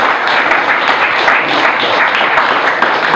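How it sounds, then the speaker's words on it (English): Steady, dense applause from a conference audience for a panel at an agricultural technology summit, a loud continuous wash of many hands clapping throughout. "Let's give them a round of applause."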